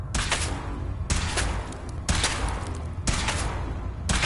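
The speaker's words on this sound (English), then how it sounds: "Okay, sure. Firing." A weapon firing in Fallout 4 on PS4, four loud, heavy blasts at roughly one-second intervals, each followed by a rumbling decay, with no speech over them.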